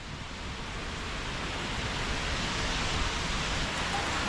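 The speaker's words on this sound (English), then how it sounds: "now it's really pouring" Heavy rain pours steadily at a campsite on a cold night, a dense, continuous broadband wash with no breaks, loud and close throughout.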